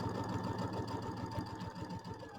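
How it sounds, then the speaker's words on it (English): A sewing machine stitches a quarter-inch seam for a quilting project in a steady, fast, even whir of needle strokes, close and continuous with no talk. "So we're going to do our 1/4 inch seam."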